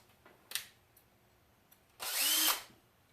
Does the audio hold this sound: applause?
no